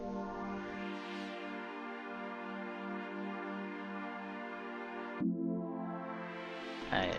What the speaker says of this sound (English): So we've got this pad that I made in RetroSynth.